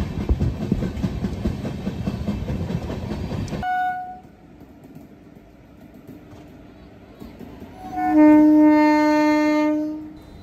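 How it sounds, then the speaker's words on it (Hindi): The Gwalior Barauni Mail arrives at Kanpur Central alongside a moving passenger train, wheels clattering loudly at first before fading, then a long, loud train horn sounds near the end. "और ये जो आप ट्रेन देख रहे हैं ये है ग्वालियर बरौनी मेल, जो कि बिल्कुल हमारे पैरेलल में कानपुर सेंट्रल में अराइवल इसका हो रहा है।"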